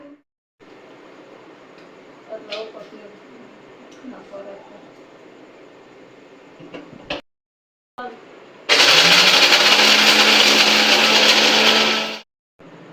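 A mixer grinder crushes cashews into a dry powder in a loud, dense burst lasting about three and a half seconds, set off from quieter kitchen talk and handling noise that come before it.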